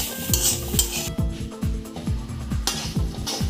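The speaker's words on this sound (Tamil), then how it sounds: "1 நிமிஷம் அளவுக்கு நல்லா இந்த மாதிரி வதக்கி விட்டுக்கோங்க." Squeezed grated radish stuffing for mooli paratha sautéed and stirred in a pan, with a steady rhythm of close spatula scrapes and knocks over a soft, constant sizzle.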